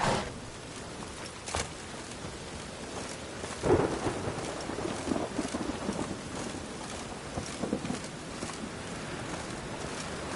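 Rain and thunder in The Witcher 3: Wild Hunt, steady rainfall hissing throughout with several thunder rumbles and cracks, loud and close, with no speech.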